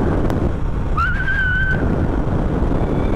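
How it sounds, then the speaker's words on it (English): A rider on a long straight road attempts to whistle inside a motorcycle helmet with the visor open, producing a thin, brief rising tone buried under loud, constant wind rush and road noise. "I can't whistle with my visor open."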